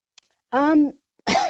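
A single close, rough cough from a person with bronchitis bursts out between short quiet gaps, with a brief start of another vocal sound right after.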